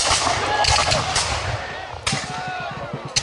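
A musket volley cracks out in an open-field American Revolution reenactment battle, a loud burst of overlapping shots with rumbling echo, followed by scattered further reports and a second sharp crack, with shouted commands around it.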